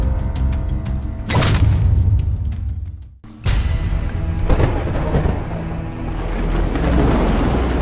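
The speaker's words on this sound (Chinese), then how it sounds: "一个雷雨交加的夜晚" Loud rain pours continuously while thunder booms and rolls, with a sudden brief hush midway before the downpour and rumbling resume.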